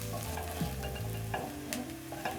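Onions frying in oil alongside fatty goat meat in a Kenyan-style wet fry, a continuous close sizzle with scraping stirs and no voices.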